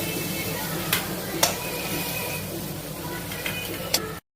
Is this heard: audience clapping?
no